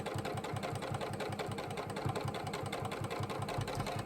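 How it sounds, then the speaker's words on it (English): A JUKI sewing machine stitching a seam at speed gives a steady, fast mechanical run with a regular low thumping pulse throughout. It stays close and even, with no voices. "And I'm just gonna speed up that sewing, and we are going to sew down that one side."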